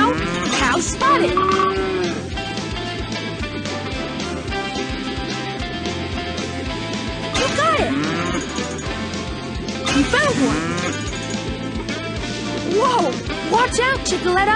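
Several moos from cartoon cows in the PAW Patrol Rescue World mobile farm-search game, mixed into constant upbeat music, chimes and character voices calling out.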